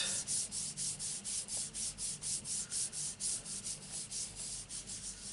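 Steady rhythmic rubbing of ink onto a card during card making, a close, even back-and-forth scrubbing repeated about three times a second without pause, with no talk.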